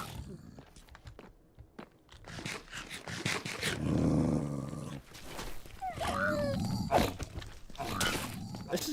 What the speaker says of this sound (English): Why is the dog knocking him back so far?